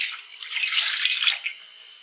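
Water pours steadily into half a litre of milk in a bowl for a cool sharbat, a close, bright splashing stream lasting about a second and a half before it stops.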